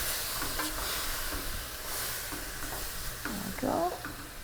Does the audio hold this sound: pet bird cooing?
no